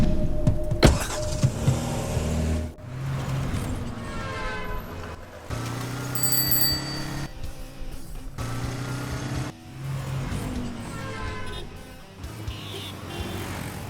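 A car engine runs unevenly on a road, sputtering and cutting out in several breaks as the petrol runs out. The engine noise is close and fairly loud, with no talking.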